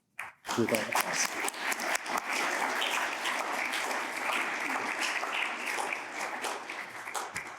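Audience applause greets symposium panelists at an architecture symposium, a dense, sustained clapping that starts abruptly after a brief silence and continues steadily for several seconds before tapering slightly.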